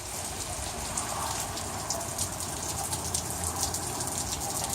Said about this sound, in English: Over here, it's just really raining outside anyway.